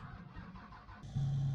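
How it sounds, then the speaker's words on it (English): A modded truck engine in Farming Simulator 19 cranks and catches, then settles into a loud, steady low idle that holds to the end after a brief rough starting phase. "I love this truck noise on here"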